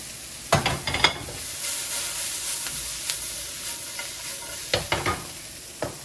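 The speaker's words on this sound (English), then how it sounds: "add the potato back to the pan and mix or toss to marry everything together" Potato and vegetables in a hash being stirred and tossed in a frying pan, a steady sizzle underneath with a few sharp scraping clatters of the utensil, close by.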